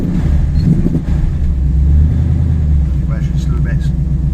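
A cold 1967 Chevrolet C10 short-bed Stepside pickup engine idles and revs with a steady low rumble, with a voice speaking over it.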